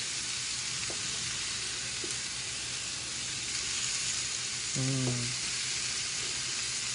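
Burger patties searing on a stovetop griddle, producing a constant loud, close sizzle and crackle throughout, with a few faint knocks and a brief tonal squeak partway through.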